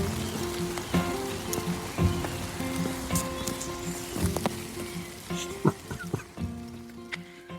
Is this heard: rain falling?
yes